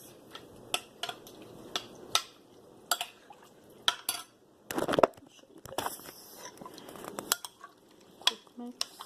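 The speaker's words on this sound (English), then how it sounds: "so let me give this a quick mix" Fish ceviche with oregano being mixed in a bowl: a scatter of sharp utensil clinks and scrapes against the dish, irregular and close, with soft wet stirring between the knocks and no talking.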